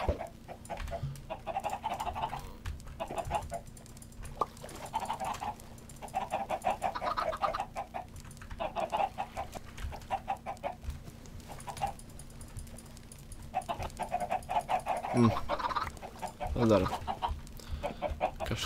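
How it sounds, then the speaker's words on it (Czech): A single chicken in the Minecraft survival game clucks in repeated short bursts at a steady rhythm, fairly close and clear, with a few brief other noises near the end. "Jedna slepice."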